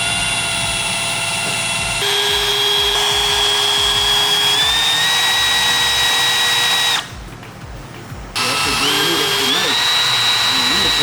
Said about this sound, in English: I haven't used this yet. This is the first time. The step drill.